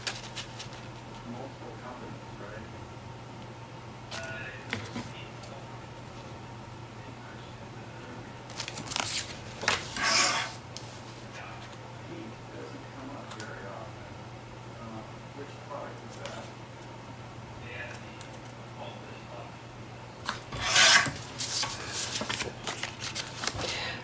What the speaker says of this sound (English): So I'm trimming these to fit based on this.